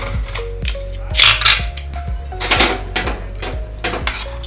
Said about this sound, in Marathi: गॅस बंद करून कुकरचं झाकण खोलूया आपण